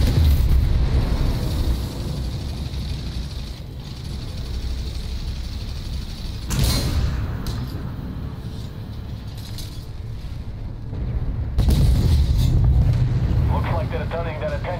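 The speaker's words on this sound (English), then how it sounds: "explosions" Explosions in the tank game Armored Warfare: a couple of heavy, booming blasts rising out of rumbling battle noise, with a voice talking over much of it.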